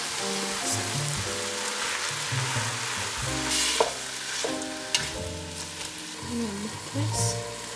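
Garlic sizzles in a frying pan with a steady crackling fry and occasional stirring clatter, close and moderately loud, while music plays underneath.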